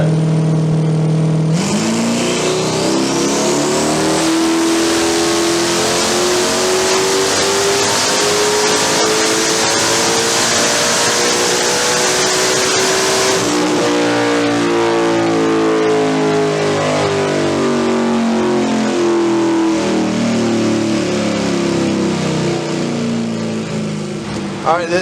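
Turbocharged Trans Am engine on a dyno roars through a sustained full-throttle pull running 5 pounds of boost, pitch climbing steadily and loud throughout, with a brief shift midway and a strong, continuous mechanical howl.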